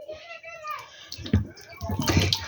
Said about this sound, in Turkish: Şu elimi yıkayacağım ben şimdi de